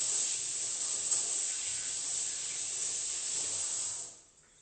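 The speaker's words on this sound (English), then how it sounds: "2 seconds, I just wash my hands." Steady broadband hiss of tap water running over hands at a kitchen sink, constant and fairly close for about four seconds before cutting off abruptly, leaving near silence.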